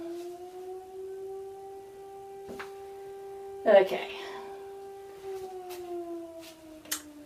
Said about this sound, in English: The infamous firehouse siren doesn't even like it.